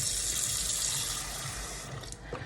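Tap water pours steadily into a canner being filled for home food preservation, a continuous close, bright hiss and splash that dips slightly near the end.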